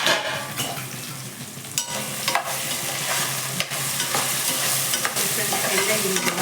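Vegetables for fried rice stir-fry in a hot pan, a steady sizzle broken by repeated scraping and clanking strokes of the spatula, close and fairly loud with no talking.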